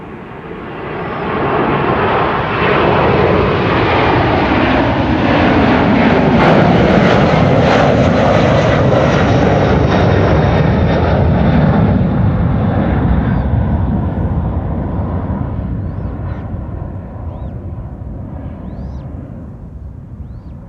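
An airliner takes off at Amsterdam Schiphol Airport with its gear retracting, a powerful, close engine roar rising over two seconds, holding strong, then slowly fading as it climbs away.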